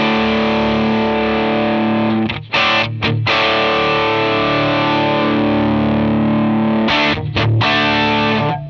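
Distorted electric guitar played through a modelled Matchless DC30 amp in a Line 6 Helix, sustained chords ringing loud and alone with two brief breaks where the tone shifts as the six-way tone switch is changed.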